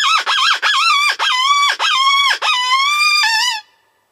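Six loud, close, wavering squeals in quick succession from a closed-reed predator call imitating a distressed rabbit, high and strained like an animal crying in distress, ending abruptly.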